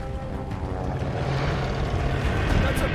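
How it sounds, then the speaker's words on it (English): In the video game Call of Duty: Vanguard, an airplane flies overhead, its propeller drone swelling into a loud, steady roar. "That's a plane!"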